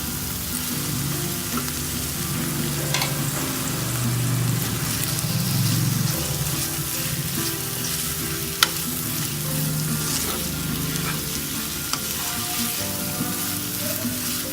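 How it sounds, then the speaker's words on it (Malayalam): Cooked prawns, curry leaves and masala are stirred in a frying pan for a Kerala-style prawn roast, giving a continuous close sizzle with repeated soft scraping strokes and a couple of sharp taps, with no voices. "ഇതിൻ്റെ എല്ലാം ഒരു പച്ച മണം പോണ വരെ ഇളക്കി കൊടുക്കണം"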